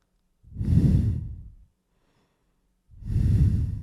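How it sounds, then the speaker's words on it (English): Two long, heavy nasal breaths captured close on a Shure MV7 microphone, each a breathy whoosh lasting about a second, separated by a silent pause, with no talking. "That's some intense nose sounds."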